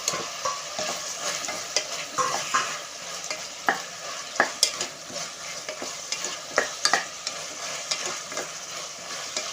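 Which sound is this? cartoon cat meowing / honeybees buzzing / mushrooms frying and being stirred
mushrooms frying and being stirred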